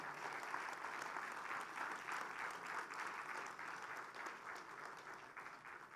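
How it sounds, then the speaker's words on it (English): An audience at a premiere event applauds steadily, a dense, even wash of clapping heard from a distance and held at the same level throughout, without speech. "Big round of applause for Dr"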